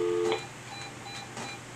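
Short electronic beeps of a phone dialing out for a call, a bright tone burst near the start followed by fainter beeps, with no talk.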